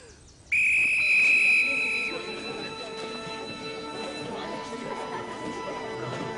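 A single sharp, shrill whistle blast starts a school race, loud and held for about a second and a half, then fades into a busy outdoor background of movement and faint voices.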